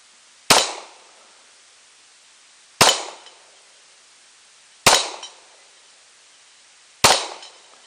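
Four loud, sharp gunshots from a 1911 pistol, fired alone at steady intervals of about two seconds, each crack followed by a short fading echo.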